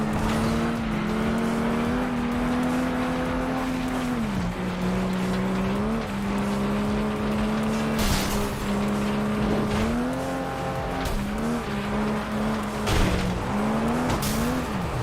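Cars racing and sliding in the FlatOut 2 video game, a steady engine drone rising and dipping with the revs while tires squeal and thumps of contact break through, continuous and loud with no voices.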